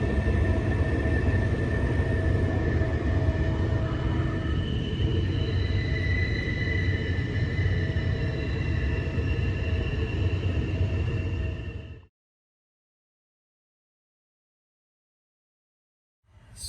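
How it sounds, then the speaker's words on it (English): The Keystone Limited train passes close by around a curve, a loud continuous rumble of wheels and cars with squealing tones that runs steadily, then cuts off abruptly into silence. "The train is surrounding us right now."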